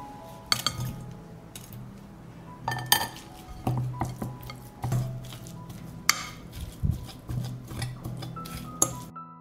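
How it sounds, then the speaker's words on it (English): Metal fork scraping and clinking against a dish while shredding oil-drained canned sardine, a run of close, uneven taps and scrapes with quiet kitchen background. "now I will shred it with a fork"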